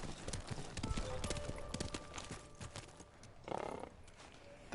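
Horse hooves in Ghost of Tsushima clip-clop in a steady, fairly loud rhythm as the mount moves along, with other game sounds in the background.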